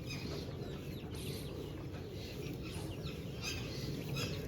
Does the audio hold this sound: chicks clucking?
yes